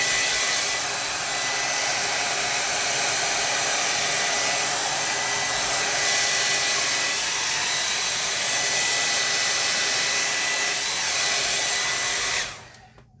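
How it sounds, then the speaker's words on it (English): A blow dryer roars loud and steady for about twelve seconds while drying damp watercolor paper, a broad constant whoosh with no talk, then cuts off abruptly near the end. "Usually I have to give you all a heads up with the blow dryer"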